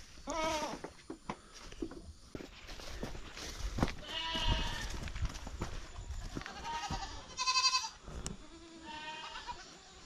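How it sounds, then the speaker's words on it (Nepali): Goats bleating on a farm, several animals calling in repeated overlapping bleats, some close and loud, others farther off, with a little background noise between calls. "सबै बाख्रा हेर्दै लाउनु भएछ आज चाहिँ"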